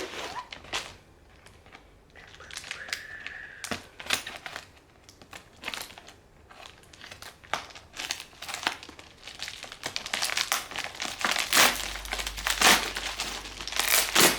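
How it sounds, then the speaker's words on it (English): Christmas wrapping paper on a yarn package crinkles and crumples as scissors cut and tear it open, the rustling close and fairly steady, rising louder toward the end. "I'm going to use scissors to open this."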